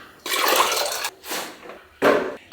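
Hot water from a bucket is poured and mixed for washing in a mountain lodge, with three loud, close splashing pours separated by short pauses.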